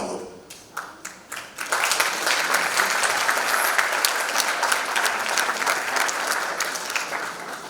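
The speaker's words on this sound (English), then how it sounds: "Give him a big round of applause." Audience applause at a youth business awards ceremony in KwaZulu-Natal, starting with a few scattered claps that swell into steady, dense clapping from a large crowd, sustained loudly to the end.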